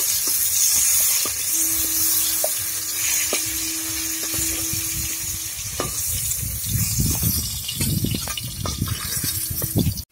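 Pointed gourd (potol) slices frying in hot oil for potol chop, giving a steady close hiss and sizzle for the whole stretch, with soft scraping and stirring knocks joining toward the end.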